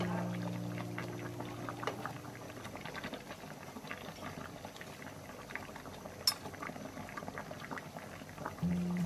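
A pot of Thai southern-style sour curry with tilapia and pineapple bubbles at a steady boil, a low continuous gurgle and fizz with scattered popping bubbles, faint and close, with no one speaking.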